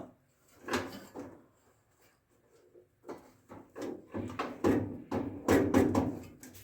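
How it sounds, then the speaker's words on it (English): Drawers are pulled from an old metal toolbox that was dug out of the dirt, giving a series of scraping slides and light metallic clunks in uneven bursts, fairly close with quiet gaps between. "Pull these drawers out."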